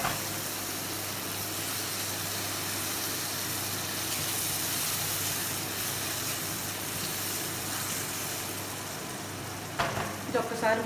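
Spice masala fries in a pan, a loud dense sizzle that holds steady throughout, with a few clattering stirs near the end.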